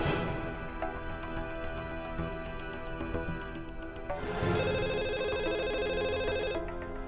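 A telephone rings indoors, with repeated electronic trills that grow brighter and louder partway through, heard over background music with no talking.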